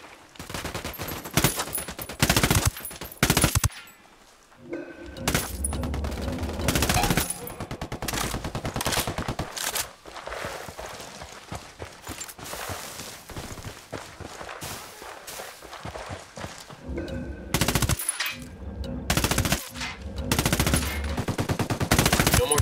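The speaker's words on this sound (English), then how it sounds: "I'm opening fire." Heavy automatic gunfire in the video game Ghost Recon Wildlands comes in loud, repeated bursts over about twenty seconds, with shorter pauses, distant shots and footsteps in between.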